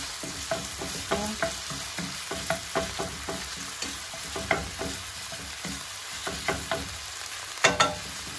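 Minced meat sizzles in a frying pan while being stirred and broken apart, with a constant soft crackle punctuated by a string of short scraping strokes at an irregular rhythm.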